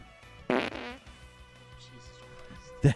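A fart sound effect known as the butt burp, heard as a short loud burst near the start and another at the very end, with quiet background between.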